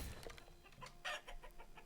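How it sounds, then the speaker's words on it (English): Chickens at a coop in the medieval town-building video game Manor Lords give a few soft, quick clucks in a short burst over faint ambient game sound, with no talking. "Chickens. Chicken coop."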